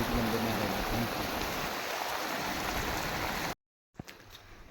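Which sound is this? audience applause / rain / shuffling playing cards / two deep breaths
rain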